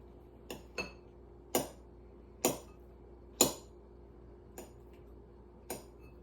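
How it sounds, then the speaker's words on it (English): A knife chops fresh bananas on a board: about seven crisp, separate taps in an uneven rhythm, close and clear over a quiet room hum. "I'm gonna chop the bananas up"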